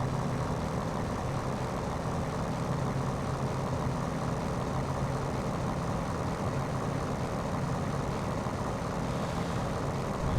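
A Curtiss P-40F Warhawk engine roars continuously at high power for takeoff, a dense, steady, loud drone without pause or talk.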